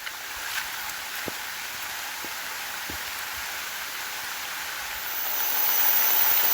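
Steady rain falls outdoors in the early morning during an eel-hunting trip, a dense even hiss with a few sharp drop ticks, growing slightly louder toward the end, with no talk.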